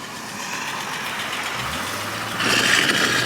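A Jeep Eagle engine runs at an auction lot, a low steady rumble that rises in loudness and roughness toward the end, close by with no talk over it.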